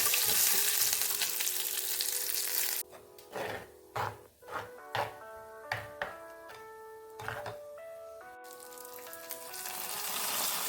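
Mustard seeds, dried red chillies and curry leaves sizzle loudly in hot oil, a harsh crackling hiss that breaks off for a stretch of plucked melodic music and then returns.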